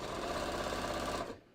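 A sewing machine runs in a fast, steady whir as it stitches twill tape or petersham ribbon onto a jeans hem, continuous and close, then stops abruptly near the end.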